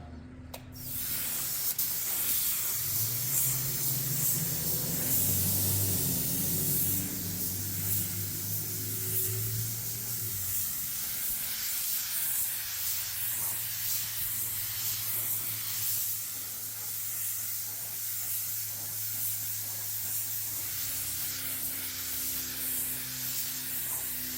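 A spray gun lays clear coat onto a Lexus RX 450 bumper during a mobile repair in Phoenix, Arizona, a close, continuous airy hiss that runs the whole time with slight surges.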